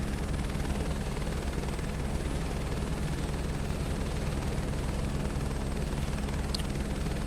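Helicopter taxiing on the ground in Microsoft Flight Simulator 2024, a steady loud rotor and turbine drone with low thumping blade pulses, continuous and unchanging throughout.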